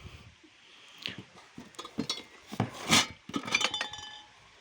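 Glass beer mugs and ordinary drinking glasses clink and knock against each other in a series of irregular, bright taps and rattles, close by and with no speech.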